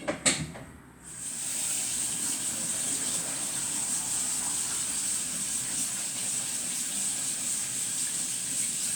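Cold water streams steadily from a kitchen tap onto food being rinsed, a constant bright hiss that follows a few brief clatters at the start, close and moderately loud with no talking.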